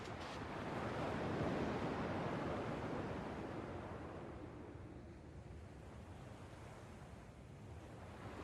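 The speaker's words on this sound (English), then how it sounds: "At least the waves sound the same." Ocean waves in the Kingdom Hearts video game wash in as a steady, broad roar that swells early and then eases to a softer, continuous hiss, with no voices over it.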